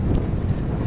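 A headwind rushing against a microphone during a bike ride, a loud, steady low buffeting close to the ear with no voices.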